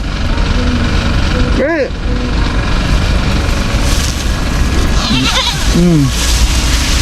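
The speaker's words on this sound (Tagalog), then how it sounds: "Yung kambing nandun na sa ibaba" Goats bleating outdoors in the Philippines, two or three wavering cries, one early and a pair later, over a steady engine or aircraft drone.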